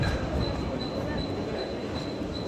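Mumbai local train rumbling at a station bound for Dadar, a steady close roar of wheels on rails with faint repeating high squeals over it, continuous for a couple of seconds.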